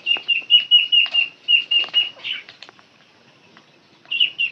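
Chickens and roosters on a rural Bangladeshi homestead flap their wings and give a run of short, sharp, close chirping calls, then pause briefly before another burst near the end.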